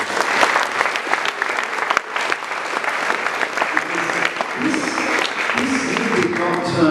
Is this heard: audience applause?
yes